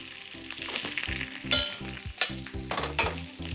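Pork shoulder steak searing in a crowded frying pan, giving a continuous loud sizzle with crackling spits and occasional utensil knocks, while a low rhythmic music bed plays underneath.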